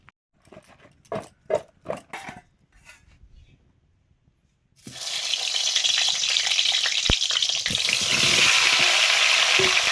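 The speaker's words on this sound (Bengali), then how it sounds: "এবার বেগুনগুলো ভাজবো। লবণ হলুদ দিয়ে দিলাম।" Eggplant pieces seasoned with salt and turmeric begin frying in hot oil with a sudden loud sizzle that settles into a steady, crackling hiss after a few quieter handling sounds.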